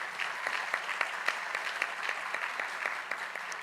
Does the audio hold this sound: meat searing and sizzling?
no